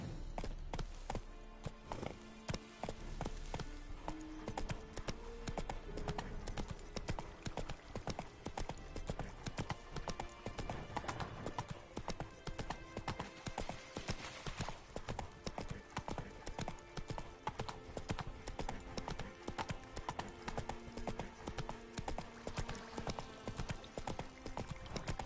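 Roach, the horse in The Witcher 3, trots in a steady, even clip-clop of hooves that runs throughout, close and regular, with a brief snort or whinny and a voice speaking over it.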